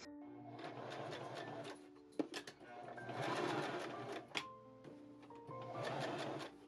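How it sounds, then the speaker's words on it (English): A sewing machine stitches seams in stretch spandex lycra for gloves, running in steady whirring bursts with brief stops and clicks between them, close and alone. "I anchor the thread and sew using the smallest seam allowance I can manage."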